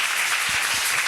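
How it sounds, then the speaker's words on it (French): A church congregation applauds and cheers, a dense, steady wash of clapping filling the whole moment at a fairly loud level, with a few low thumps poking through. "Non, ta façon d'acclamer ne me plaît pas. Non, j'aimerais que tu acclames bien."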